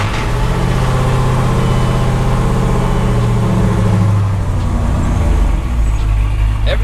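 Dodge Dakota truck driving with a loud, steady low road and engine rumble that runs unbroken through the whole stretch, close up from inside the cab.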